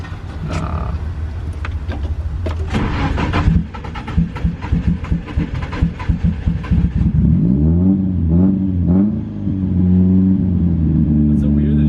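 A drift car running at altitude on Pikes Peak with its injectors unplugged revs hard, the engine roaring and stuttering through rapid pulses before settling into rising and falling revs, loud and close.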